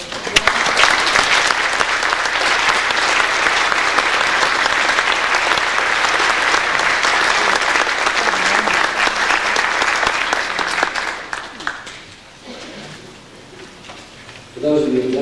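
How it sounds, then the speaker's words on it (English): A courtroom grand opening crowd applauds the judge, loud dense clapping that holds for about eleven seconds and then fades, followed by talking. "I think that we all should give him applause for the wonderful job he's done"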